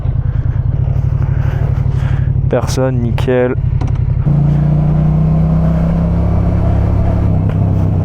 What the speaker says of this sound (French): Enfin beau bruit hein, cette moto.